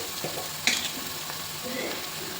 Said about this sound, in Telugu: మంచిగా కలిపి ఫ్రై చేసుకోవాలండి.